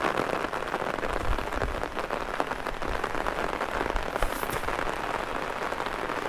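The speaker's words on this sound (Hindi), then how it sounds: "तेज़ से और तेज़ वाली बारिश धीरे धीरे हमारी तरफ बढ़ रही है" Heavy rain pours steadily in the cloud-covered mountains of Uttarakhand, a dense, even hiss with drops pattering on surfaces nearby and no voices.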